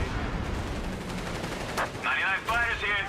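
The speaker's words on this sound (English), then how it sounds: "Single strafe is on the way." Strafing run in Company of Heroes 3, with a rattle of rapid gunfire and battle noise under a commentator's voice, followed by short whining and whooshing bursts near the end.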